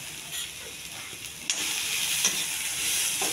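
Boiled field beans and peas tipped into a hot turmeric tempering in a pan, giving a steady close sizzle and hiss with a sharper burst as they land and a few spoon scrapes.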